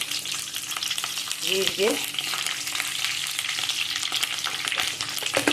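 Curry leaves and cumin seeds sizzle and crackle steadily in hot oil for a drumstick-leaf palya, a dense close frying hiss throughout with a brief pop and spatter partway through.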